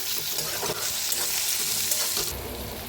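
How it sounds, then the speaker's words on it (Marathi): Stuffed capsicum sizzles and fries with leftover masala in a pan, a steady loud crackling hiss with faint stirring scrapes, no voices. "छान असं भाजून घेऊया तर त्याच्यातच टाकूया उरलाला मसाला आणि त्याला एक मिनिट मिक्स करून घेऊया"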